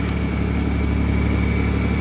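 A tractor engine runs steadily while plowing snow, a close, loud, continuous low idle-like drone with no talk over it.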